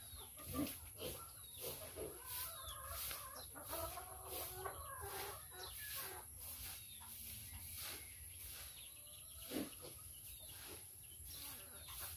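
Several chickens in a coop cluck and squawk intermittently nearby over a steady hiss of background noise, with occasional louder calls standing out.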